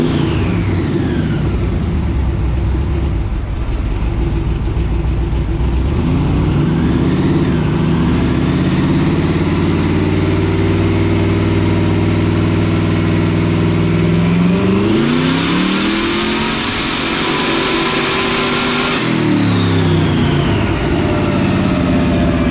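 Blown small block Chevy V8 in a Corvette with an Edelbrock carburetor runs on a dyno, loud and close, idling steadily then climbing through rising revs and dropping back to a rumbling idle.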